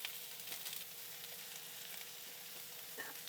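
Sliced yellow onions sizzle and fry in olive oil in a pan while caramelizing, a steady soft crackle with occasional stirring bursts, close but fairly quiet.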